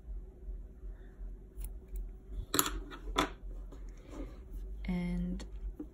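Scissors snip the yarn tails of a crocheted cotton dishcloth, making two or three brief, crisp close cuts while someone talks softly over a low background hum.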